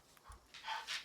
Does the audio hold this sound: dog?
yes